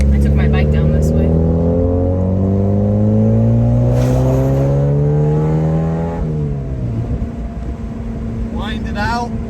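Mazda Miata engine revving hard on a back road, rising through gears with a loud, close climbing drone, a shift, then continued pull, with someone talking over it.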